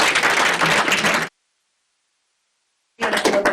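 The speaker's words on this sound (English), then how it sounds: "One round of applause." Applause from an audience at a climate and media event, a burst of clapping that cuts off abruptly into silence, then resumes after a gap.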